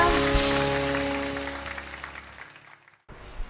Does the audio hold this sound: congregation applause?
yes